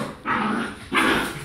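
Two dogs fighting give off two sustained, close growling bursts in a row, harsh and rough, with a short pause between them.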